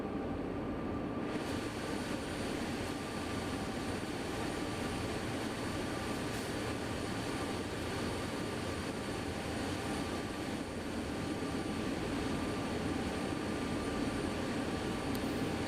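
Inside the cab of a locomotive hauling a mile-long intermodal train of over 100 cars on Sherman Hill in Train Sim World 2: a constant, muffled engine drone and rumble, fairly quiet and unbroken throughout, with no voices.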